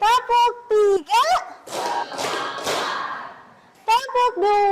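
Children in a class clapping game chant in unison, then clap out a short rhythmic series of hand claps before chanting again.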